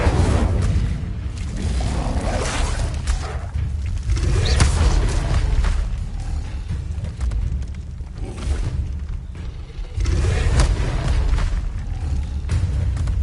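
Repeated fiery booms and whooshing bursts from the Incendio fire spell cast again and again in Hogwarts Legacy, loud and continuous with deep rumbling low end and no pauses.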